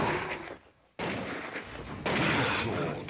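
AK-47 gunfire in a zombie shooting game, a loud sustained roar of rapid shots that drops out briefly for a reload, then resumes and grows louder.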